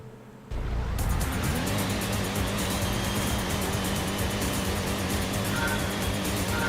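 A car engine in Gran Turismo on the PS1, racing on a night track, a loud sustained revving drone that kicks in after a brief quiet start, with a faint voice underneath.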